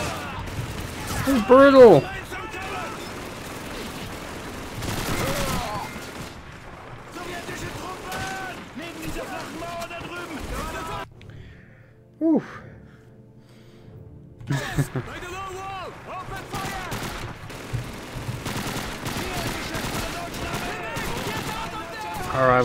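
Grenade blasts and bursts of gunfire in the World War II shooter Call of Duty 2, several sharp booms scattered through a busy battle, with a player talking excitedly over the noise.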